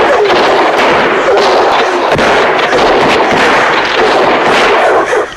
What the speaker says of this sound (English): He then signals his men to open fire on the scarecrow.